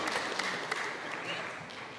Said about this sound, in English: Clapping is not in order.